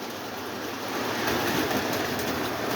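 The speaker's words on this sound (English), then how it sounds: "Here comes the other steam locomotive." A Lionel model steam locomotive runs along its track with a continuous close rumbling clatter that swells slightly as it approaches, no talk over it.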